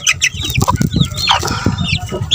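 Hens and chickens clucking in a backyard chicken coop, with close, busy overlapping clucks and short high calls throughout and no talking.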